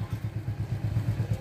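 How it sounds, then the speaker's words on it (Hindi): Motorcycle riding over a damaged town culvert, a low steady engine putter with a regular pulsing beat and faint clatter, fairly close, with no talk over it. "ये बाइक आ गई"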